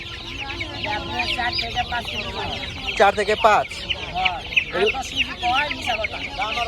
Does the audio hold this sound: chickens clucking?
yes